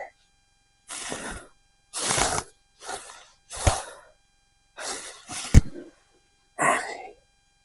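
During transmission reassembly on a Peugeot 403, the clutch disc is tightened by hand with a tool, giving a series of short, separate ratcheting and clicking bursts, close by, with a sharp metallic knock partway through.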